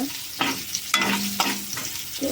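Raw wood apple pieces frying lightly in oil for a chutney, with a steady hiss of sizzling broken by regular scrapes and clicks of stirring roughly every half second, close and continuous.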